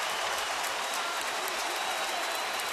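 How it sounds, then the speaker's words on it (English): A baseball crowd at the Astros ballpark cheers on its feet as a dense, steady roar of many voices that stays loud and unbroken throughout, with no distinct single sounds standing out. "this crowd on their feet sound like they're Pretty wholeheartedly open to seeing a perfect game tonight"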